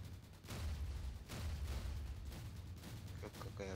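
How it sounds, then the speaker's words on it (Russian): Heavy cannon shots in a robot-fighting video game: dense, continuous booming barrage with repeated loud blasts, fairly close, with background game noise throughout. "Да канон же это взрывной выстрел, это же пушечный, а не пулеметный"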